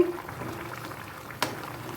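Beef braising in a covered pot gives a low, steady bubbling simmer, faint and continuous, with one brief sharper tap near the end.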